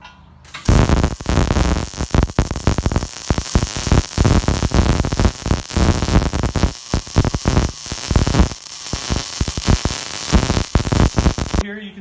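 MIG-style welding of beadlock tabs onto the inside of a wheel rim, with a steady loud crackling hiss running nearly continuously with brief gaps, close up and without talk.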